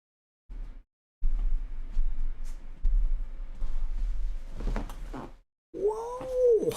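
A house cat meows nearby, a short soft cry followed by a louder drawn-out meow, with a few muffled thumps and shuffling indoors and no speech.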